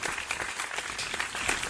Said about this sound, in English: let's do the applause now.